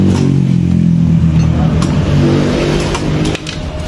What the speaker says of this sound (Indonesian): Coba sob, nyalakan dulu motornya sob.